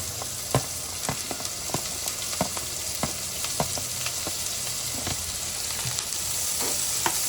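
Capsicum sizzles and crackles as it is fried with golden-browned garlic in a hot pan, with a continuous hiss punctuated by sharp stirring scrapes and pops at an irregular rhythm.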